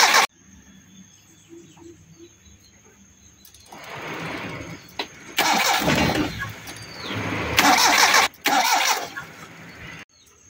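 A car that is hard to start, its starter cranking in several loud, rough bursts with short gaps between them, outdoors with birds and crickets faintly audible in the quiet stretches beforehand.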